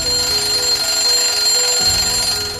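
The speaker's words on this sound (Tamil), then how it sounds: "டெய்லி காலையில அர்ஜுனோட ரூம்ல சத்தமா அலாரம் அடிக்கும்." A loud alarm clock rings steadily in a bedroom in the morning, its bright electronic tone continuous and close for the whole stretch, with a slight shift in the low hum partway through.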